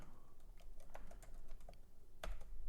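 Computer keyboard typing while entering a table name in a Google Sheets formula: a short run of soft, close keystroke clicks with one sharper tap, faint and without speech.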